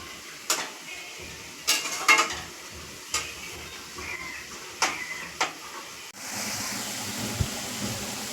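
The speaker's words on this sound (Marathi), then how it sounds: "आपला ब्राऊन रंगावरती कांदा तळत आलेला आहे" Onion frying in a pan for veg biryani, a quiet sizzle beneath a series of sharp spoon clinks and scrapes against the pan, then a louder, steadier sizzle at the end.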